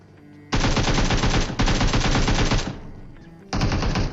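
Rapid automatic gunfire from PUBG Mobile gameplay, loud and close, in three sustained bursts separated by brief pauses, with no talk.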